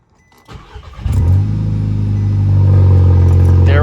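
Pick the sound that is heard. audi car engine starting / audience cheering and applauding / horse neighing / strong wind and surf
audi car engine starting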